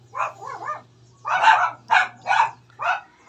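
Pet dogs bark nearby in a garage workspace where a distributor contact point is being adjusted, giving a burst of yips followed by several sharp, separate barks over a low steady hum.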